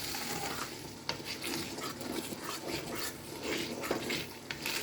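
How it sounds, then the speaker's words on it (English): A pot of tomato stew with crayfish, garlic and curry is stirred steadily, giving continuous wet scraping and sloshing with small sharp knocks of the utensil, fairly close and with no talking. "I will stir again."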